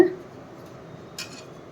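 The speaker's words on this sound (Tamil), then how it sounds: "இப்படியே போட்டு மூடிடுங்க." A lid set onto a cooking pot while making red rice puttu, a single short metallic clink at the start followed by a faint light rattle a moment later, otherwise quiet.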